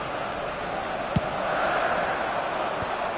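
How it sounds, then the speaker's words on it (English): Crowd applause fills a stadium in a football video game, a steady broad roar of clapping and cheering throughout with a brief sharp knock near the start. "it's applause all round us here"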